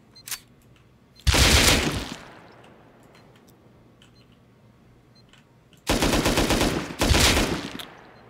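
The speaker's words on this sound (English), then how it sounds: "Auto turret." An auto turret in a video game raid fires in loud, rapid machine-gun bursts, one around a second long, then two more close together after a quiet stretch, heard up close with no talk.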